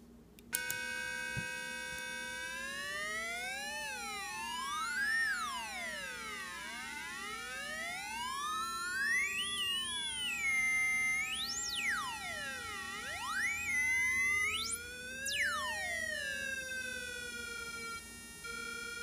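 Two 555 timer oscillator circuits drive a single speaker, producing steady electronic tones that sweep up and down and cross each other in pitch, alone and continuous for the whole stretch.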